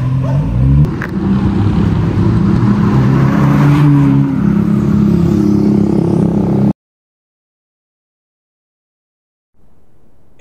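A Honda City RS GN2 fitted with an HKS chambered muffler is heard from outside, its exhaust giving a loud, deep, steady drone that cuts off abruptly into silence before faint sound returns.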